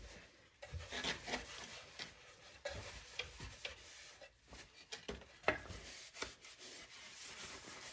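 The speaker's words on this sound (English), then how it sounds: "you want to wipe all the excess oil off" A cloth wipes excess tung oil off the surfaces of a wooden box, making faint, soft rubbing and scuffing strokes with small wooden taps in a quiet room.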